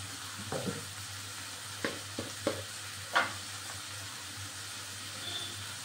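Pasta being stirred in a pan on the stove, a few quiet scraping knocks of the utensil scattered over a soft, steady background hum.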